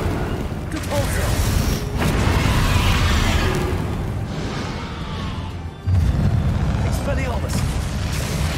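A Repulsor spell goes off in Hogwarts Legacy combat, a loud blast and burst of magical force over a continuous roar of battle, with a voice shouting over it.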